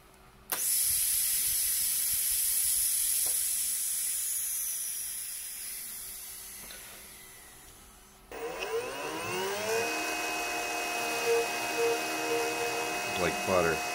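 An NSK NR-40 automatic-tool-change spindle starts with a sudden loud air hiss that fades, then a steady high-pitched motor whine runs as the spindle cuts, with faint voices talking underneath.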